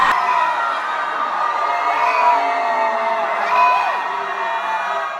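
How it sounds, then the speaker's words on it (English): More than 100 students scream together at midnight inside a university library before finals, a sustained roaring crowd of overlapping shrieks and whoops heard steadily from a short distance. "Baldwin Library began finals with a scream this year"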